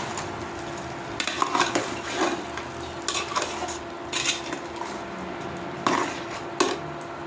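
Spices are stirred into food cooking in a pan, a steady close sizzle punctuated by repeated clinks and scrapes of a utensil against the pan at irregular intervals.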